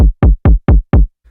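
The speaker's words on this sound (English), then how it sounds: "So just adding a filter and saturator to the snare" Five punchy snare drum hits processed through a filter and saturator in Maschine fire in an even rhythm, each with a fat low body and a short bright decay, loud and isolated.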